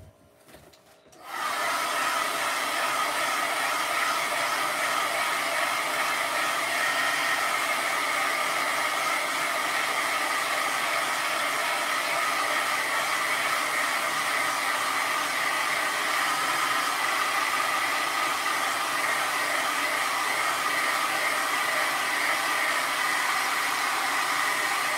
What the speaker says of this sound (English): So I'm going to do another round with the hair dryer